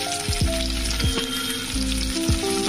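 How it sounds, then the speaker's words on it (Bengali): Amla (Indian gooseberries) fry in spiced oil for a gooseberry pickle while a spoon stirs them, making a loud, close sizzle with a few rhythmic scraping strokes against the pan. "এবারে দিয়ে দিলাম আমি এর মধ্যে আমলকিটা, দিয়ে এটাকে নাড়িয়ে নেব।"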